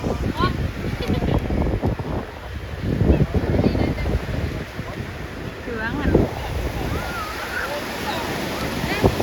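Waves wash onto the beach at Port Dickson under gusty wind buffeting the microphone, a rough continuous roar rising and falling, with people talking over it.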